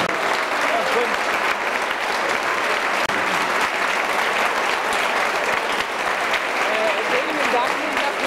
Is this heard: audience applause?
yes